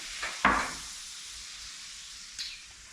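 Butter and a splash of olive oil hitting a hot pan in a kitchen, a sharp sizzle bursting up and then settling into a soft steady hiss, with a second brief flare near the end.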